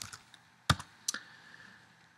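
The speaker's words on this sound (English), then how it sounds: "Now here up in the search art, I'm going to type rising sun brushes." A search is typed on a computer keyboard, giving a few close, sharp key clicks spaced irregularly over a quiet room background.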